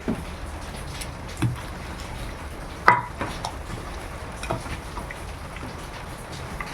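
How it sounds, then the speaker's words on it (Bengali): Rain patters steadily in the background, with a few sharp clinks and knocks standing out. "বৃষ্টির শব্দ পাচ্ছেন? সকাল থেকে এরকম কয়েক দফা বৃষ্টি হয়ে গেল।"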